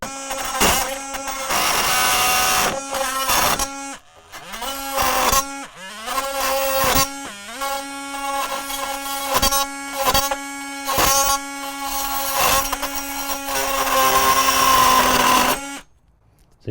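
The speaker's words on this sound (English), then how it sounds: "it's a little ridiculous cutting copper pipe, but you can definitely do it" A Dewalt 20V Max oscillating multi tool cuts through copper pipe, giving a loud, harsh buzzing whine in repeated bursts separated by brief pauses, with a final stop near the end.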